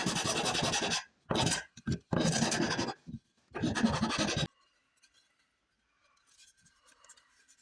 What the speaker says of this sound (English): We work on the legs, grinding them down, not to perfection,